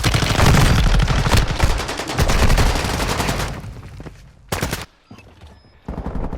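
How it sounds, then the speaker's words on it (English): Rapid automatic gunfire in the video game Call of Duty rattles loud and close in sustained bursts, then breaks off into sparse, shorter volleys separated by near silence. "You are taking effective fire."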